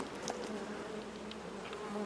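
Honey bees buzzing steadily around a populous hive box fitted with a honey super, a dense continuous hum at close range with no voices.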